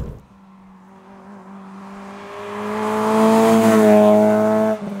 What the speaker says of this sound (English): it's making some noises that I wouldn't expect from a standard exhaust